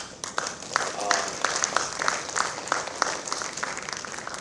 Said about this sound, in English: I think we must give him a round of applause